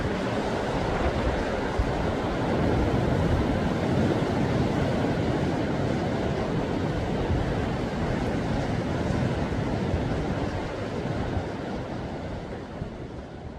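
Ocean surf washes continuously against the rocky coast below Naksansa temple in Yangyang, a broad steady roar with some wind, fading slightly toward the end and free of voices.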